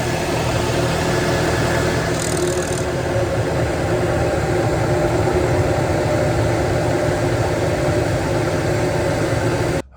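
A Jeep engine idles smoothly after an air filter change, a loud, steady low hum and drone held the whole way through, close up, with no voices.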